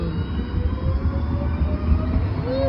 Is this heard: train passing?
yes